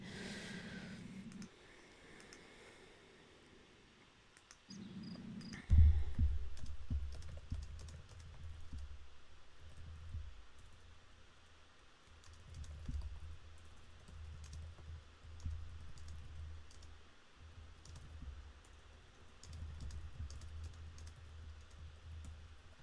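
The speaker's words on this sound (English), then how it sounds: "just typing in Discord" Keyboard typing during a World of Tanks Blitz tournament broadcast, quiet and intermittent clicking bursts over breathing and low background rumble.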